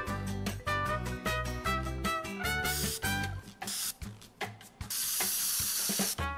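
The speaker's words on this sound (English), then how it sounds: "spray can" Hissing bursts from a spray can in a Minecraft physics mod, several short sprays and one longer sustained hiss, loud over looping game music.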